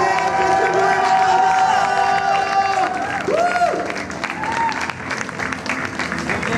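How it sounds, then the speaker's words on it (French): An audience at a gaming tournament claps steadily while cheers and voices ring out over it, the applause strongest at first and thinning slightly toward the end. "On applaudit."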